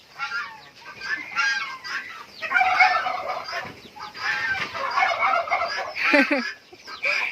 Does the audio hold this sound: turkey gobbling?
yes